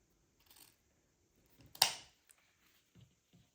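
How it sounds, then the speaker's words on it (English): A single sharp snip of scissors cutting wire stands out in near silence, followed by a few soft clicks and small handling taps. "You want a good pair of scissors that's able to cut through wire."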